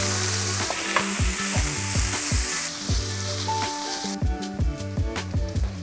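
Bacon sizzles and crackles steadily in a hot pan, a dense, continuous frying hiss with occasional soft pops and no talking.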